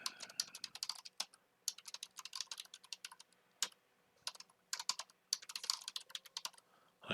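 A computer keyboard clatters as a short command is typed, quick uneven keystrokes in bursts with a few brief pauses, close and crisp, with no talking.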